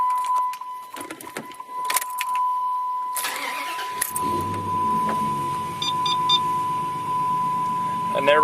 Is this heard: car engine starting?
yes